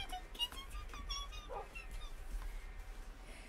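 A dog in Minecraft gives a few faint, short yips and whimpers in quick succession, quiet against low background rumble.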